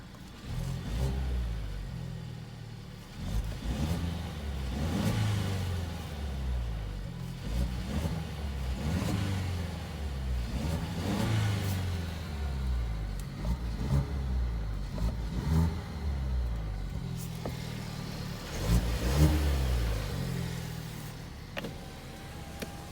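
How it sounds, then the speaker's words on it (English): A 2020 Genesis G70 with a six-speed manual revs over and over, the engine climbing and falling in steady surges every few seconds, with the exhaust crackling between pulls, loud and close. "Hear the beautiful crackle in that exhaust."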